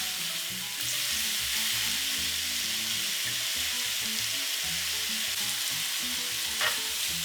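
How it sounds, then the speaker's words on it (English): Thin-cut beef steak for fajitas sears in a hot pan, a loud, steady sizzle and crackle running throughout, with occasional scrapes as pieces are turned. "Once it's slightly seared, turn it."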